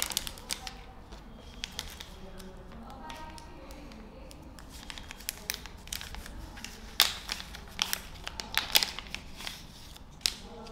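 Protective film being peeled from the heat-conductive coating of a Moi by Ultracare Pro pain relief device: faint crackling, ticking and tapping sounds, sparse at first, then denser bursts toward the end, with soft talk alongside.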